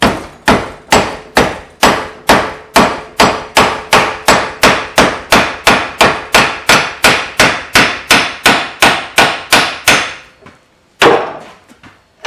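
A hammer strikes steel stock to bend the jaw of a pair of box jaw tongs: about two dozen loud, evenly spaced ringing blows, then a short pause and a few final strikes.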